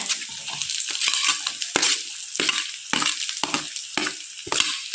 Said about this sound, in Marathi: आता कांदा छान आपल्याला गुलाबी रंग येईपर्यंत होऊ द्यायचा